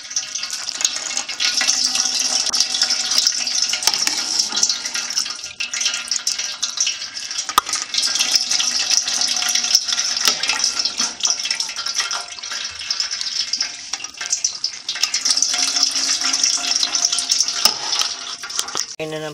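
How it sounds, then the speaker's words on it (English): Soaked pinto beans and their water run through a colander, a steady loud splashing and hissing rush of draining liquid at close range, continuous throughout with small clatters. "So I'm draining them through this colander."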